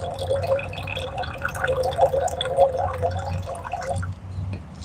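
Water runs and splashes into a pan set up for frying tater tots inside a Toyota Prius, a busy liquid trickle with drips that fades somewhat toward the end.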